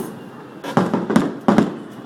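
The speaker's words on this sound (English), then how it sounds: "What are they using? Fireworks." Fireworks bursting outside a home balcony, three or four sharp cracking bangs in quick succession over a soft background hum, fairly close and loud.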